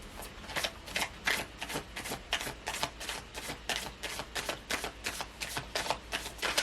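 Cards riffle-shuffled in quick repeated bursts, a steady papery flutter with short pauses, close and moderately loud, no voices.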